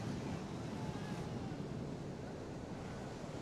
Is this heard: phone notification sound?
no